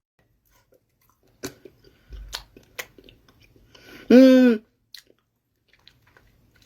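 Food is chewed close up in soft, irregular crunchy bites separated by quiet pauses, with a short hummed murmur partway through.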